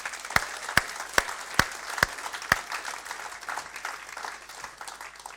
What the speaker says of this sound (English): I think a round of applause to those two